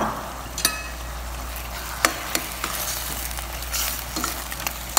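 Chicken breast sizzles in a hot pan for papaitan, a steady crackling fry with scattered sharp clicks and scrapes of a stirring utensil, close and moderately loud with no talking.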